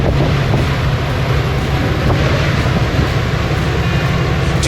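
A yacht runs fast across the water off Dubai Marina, a steady, loud wash of engine rumble, rushing water and heavy wind buffeting the microphone, continuous throughout.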